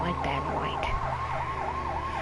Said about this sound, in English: Normal sirens